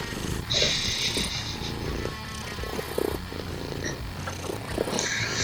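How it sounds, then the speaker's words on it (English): A house cat purrs close by, a steady low rumbling hum that runs throughout, with some background noise and clatter mixed in. "No, cat, get out of here."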